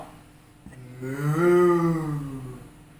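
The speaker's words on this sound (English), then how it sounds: "We had nothing but an old cow." A single drawn-out cow moo swells and fades, loud and close, with no other sound around it.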